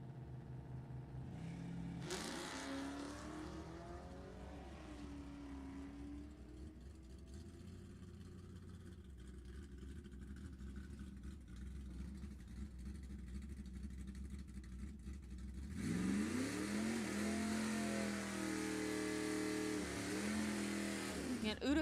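A 1967 Chevelle and a 2002 Mustang drag racing on a bracket strip at Sacramento Raceway: steady engine rumble with revving under an announcer's voice, swelling into a louder, harsher roar near the end.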